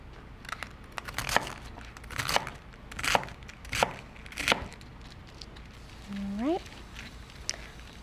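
A knife chops green onions, white and green parts, on a cutting board in a home kitchen, giving about seven crisp, spaced crunching strokes.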